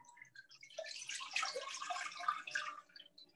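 Four cups of water poured into a cooking pot for chocolate caliente, a steady splashing, trickling stream that swells and fades over a few seconds, with no talk.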